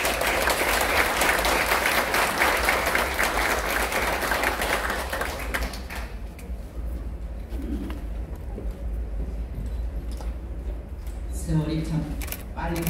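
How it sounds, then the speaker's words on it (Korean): Warm applause from an audience at a ceremony in the National Assembly, loud and dense for about six seconds, then dropping to a quieter room tone with soft cooing near the end. "뜨거운 박수로 맞이하겠습니다."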